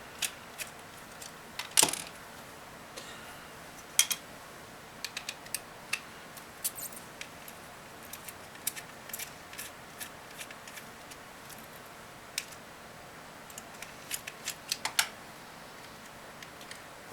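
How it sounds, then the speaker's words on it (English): Small screws being backed out of a Chrysler TC by Maserati odometer housing, with faint scattered ticks and clicks of a screwdriver and metal parts, quiet and close, with no talking. "what I'm going to do is start by removing these screws"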